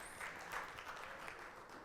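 Steady applause from an audience at a live Wichita talk event, moderately loud and sustained for the whole short stretch.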